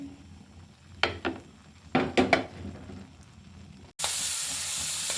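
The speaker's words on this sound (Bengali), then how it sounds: "সাথে ডিমও ভাজি করে নিলাম, ডিম ভেজে নিচ্ছি" Eggs fry in a pan beside a pot of khichuri, a soft sizzle under a few sharp utensil knocks and scrapes, then a sudden loud burst of hissing frying takes over near the end.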